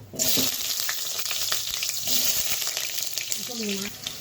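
Steady loud sizzling of potatoes frying in hot oil fills the clip, with a few clinks and scrapes and a brief voice near the end.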